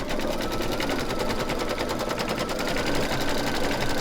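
An embroidery machine stitching a bicycle-with-hearts design, a loud, close, continuous rapid needle clatter with a steady mechanical rhythm and no talking.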